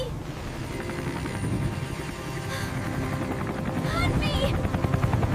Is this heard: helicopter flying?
yes